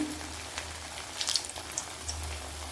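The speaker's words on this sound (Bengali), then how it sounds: "তো আমার তেলটা গরম হয়ে গেছে, তো এখন আমি মাছের পিসগুলি ভেজে নেব" Fish pieces frying in hot oil, a faint, patchy crackle and sizzle with scattered pops over a low background hum, no voices.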